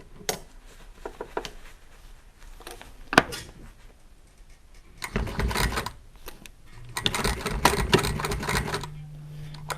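A powerful sewing machine tacks down pinch pleats on drapery fabric in two bursts of rapid stitching, one short and one longer, with quieter handling of the cloth between them.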